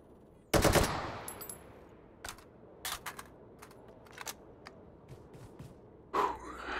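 Gunfire in the VR shooter Hot Dogs, Horseshoes & Hand Grenades, with the player hiding and taking pot shots: one sharp close shot opens, then sparse single cracks and short pops follow at irregular gaps over a quiet background.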